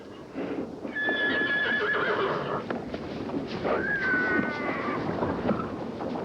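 A horse whinnies twice, shrill and drawn out, over hooves clopping and gusting wind.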